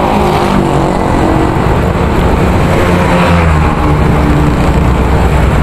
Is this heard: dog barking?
no